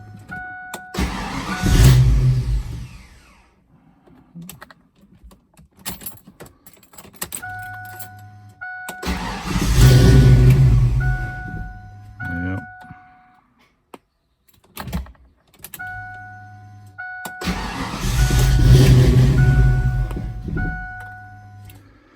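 A Ford Foxbody Mustang with a surging idle and hard starting when hot, heard in repeated cranking-and-start attempts: three loud bursts of engine noise separated by quieter stretches with faint clicks and jingling, close up and without talk.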